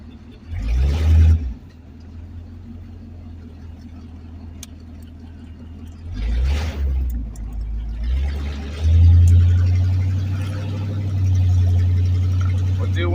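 A 1984 El Camino drives along, its engine cruising just under 2,000 RPM, a low steady drone with two brief revving swells early on and a louder push near the end, with a person talking over it.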